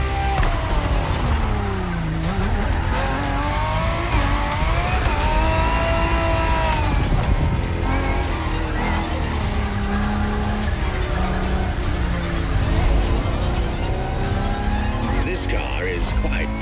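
A La Ferrari-based FXXK supercar racing in The Crew Motorfest video game: a high-revving engine rising and falling through gear changes with tire squeal, loud and continuous, with a narrator talking over it.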